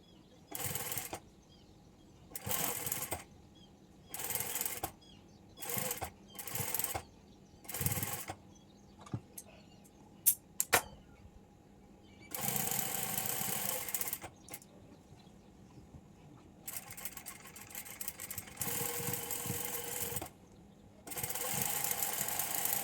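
A sewing machine stitches lace onto a blouse in repeated bursts of fast running, with short pauses between them and a few small clicks. Longer continuous runs come near the end.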